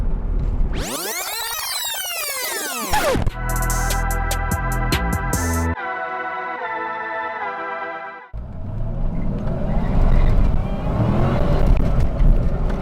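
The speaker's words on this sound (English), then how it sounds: "Losing traction through the first gears, but it picks up pretty impressively." A 2003 Ford Mustang SVT Cobra accelerates hard through the gears, engine climbing in loud sweeping revs with abrupt shift breaks, then a sustained rushing roar at speed.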